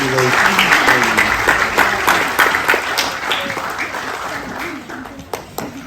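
Applause from a school audience at a Year 6 graduation ceremony after students' speeches, sustained clapping from many hands with a voice talking over it and the clapping thinning toward the end.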